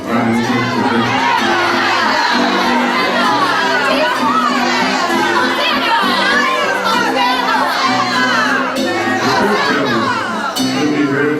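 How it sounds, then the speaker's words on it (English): A large crowd at a church Easter pageant shouts and cheers excitedly, chanting hosannas, many voices overlapping in a dense, continuous roar of joyful noise. "The happy voices of the people rang out, chanting glad hosannas and crying for victory."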